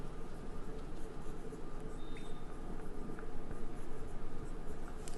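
Chalk or marker scratches across a board in a classroom chemistry lesson, a steady, soft scraping and tapping close by under a faint background hum, with no speech.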